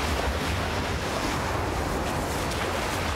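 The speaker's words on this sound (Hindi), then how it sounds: "यहाँ पे पानी की जो लहरें हैं ना, वेव्स है, वो बहुत ही तेज़ है" Strong water waves in the video game Unravel roar as a dense, continuous wash of surf and wind-like noise, loud and steady with no pauses.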